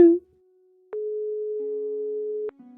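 A telephone in the Broken Sword 5 video game gives a clean electronic beep, a held steady tone followed by a lower tone, with no voices over it.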